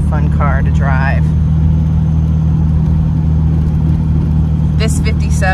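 Steady low engine drone from a 1957 Jaguar XK140 SE fixed head coupe while driving, constant and close, with brief speech over it near the start and again near the end.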